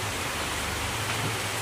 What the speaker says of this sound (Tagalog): Ayun, nakakaabala ang ulan.